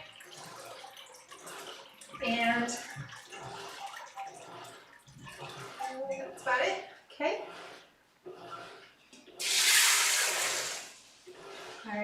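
Water is poured into a pot for split pea soup in a home kitchen, a brief loud splashing rush under someone talking.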